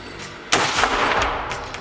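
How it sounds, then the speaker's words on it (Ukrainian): A single sharp gunshot from a Czech CZ P-10 pistol or a 5.56 NATO carbine cracks out close and loud after a brief quiet moment, its echo rolling away and fading over the next second. "постріляти з чеського пістолета чзф п 10 та бельгійського спецназівського карабіну натовського зразка"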